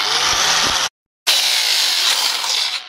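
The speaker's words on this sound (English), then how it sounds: "When I'm grinding, I'm barely scratching the surface, taking care not to grind too deep." A power tool grinds lightly across a surface, a loud continuous harsh whine that stops abruptly for a moment, then resumes and runs steadily to the end.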